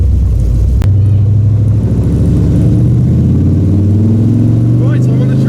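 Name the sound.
car engine pulling away to join track parade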